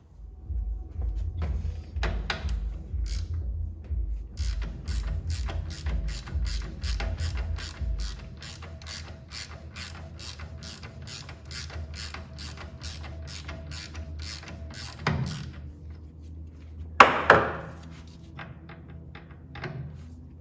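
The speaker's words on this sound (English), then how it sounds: "you can loosen this bottom rebound bolt when the forks are still on the bike and the front wheel is still on" A wrench ratchets in a long run of rapid, even clicks while loosening the bottom rebound bolt on a Showa 49mm motorcycle fork, followed by a few louder clanks near the end.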